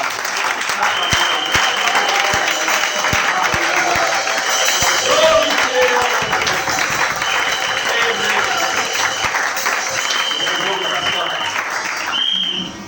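A church congregation applauding steadily and loudly for the whole stretch, dense clapping that swells and holds, with voices mixed in under the applause.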